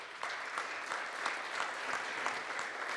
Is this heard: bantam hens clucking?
no